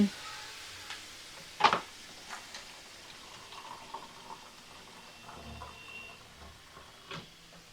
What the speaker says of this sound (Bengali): এইবার দেখো আমি জল দিয়ে দিচ্ছি।